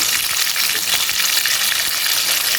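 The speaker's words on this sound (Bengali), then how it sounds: "মাছটা আমি ভাজা শুরু করলাম।" Fish sizzles steadily in hot oil in a pan over a medium flame, cooking for an Arabian fish kabsa: a loud, continuous crackling hiss with no pauses and no voices.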